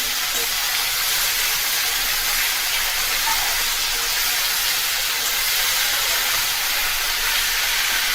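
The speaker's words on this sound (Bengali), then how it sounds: "এবার একটু নেড়ে দিচ্ছি" Ash gourd curry being stirred in a pan, with a loud, steady sizzling hiss that holds evenly throughout, no voices.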